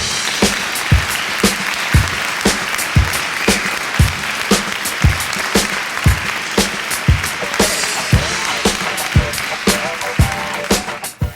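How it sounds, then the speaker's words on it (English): Audience applause greets three female panelists at a Bollywood social media and style talk: a steady, fairly loud wash of clapping with sharp, rhythmic hand claps standing out near the microphone throughout. "Can we have a huge round of applause for all three ladies?"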